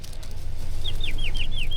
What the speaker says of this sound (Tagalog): may mga ibon oh